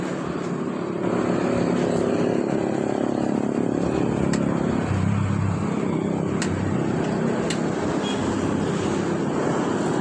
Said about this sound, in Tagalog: Start mo na motor.